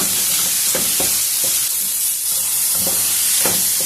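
Capsicum pieces fry in a pan for capsicum rice, giving a steady close sizzle and hiss broken by intermittent stirring scrapes every half second or so, with no voices.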